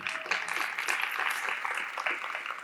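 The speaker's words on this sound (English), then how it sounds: "Let's give Dan a round of applause." Scattered audience clapping at a season launch event, individual claps audible in an uneven, moderately quiet patter that holds for a few seconds.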